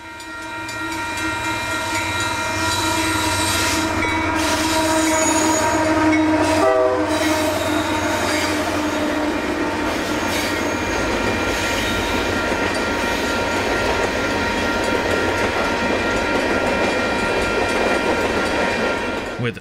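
A heavy Union Pacific freight train with several locomotives rumbles past close by in Kirkwood, Missouri, its engines droning steadily with rattling cars and a brief horn blast partway through.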